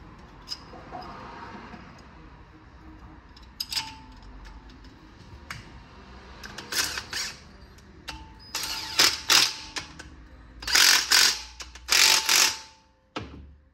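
A torque wrench tightens bolts to 18 foot-pounds on a GM 3.6L engine, with sharp, close ratcheting clicks coming in quick clusters that grow louder toward the end over faint shop background.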